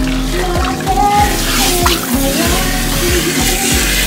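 Running water rinses hair at a salon sink, a steady loud rush with a low pulsing hum underneath and no talk over it.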